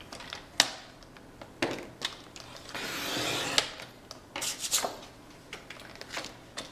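A paper card base cut to 5.5 by 8.5 inches with a paper trimmer, heard as sharp clicks and a short sliding cut through the sheet, close and fairly quiet.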